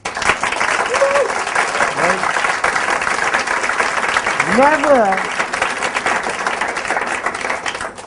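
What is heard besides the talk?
audience applause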